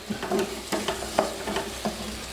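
Raw mango pieces sizzle in a hot pan while a utensil scrapes and stirs in a loose, repeated rhythm, close by, with no voices.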